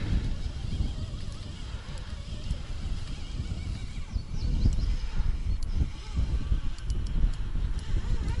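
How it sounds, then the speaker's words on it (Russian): Steady, blustery wind on a taiga beach at night roars across the microphone in low rumbling gusts, swelling louder midway, with faint bird calls far in the background. "Ветер поднялся страшный."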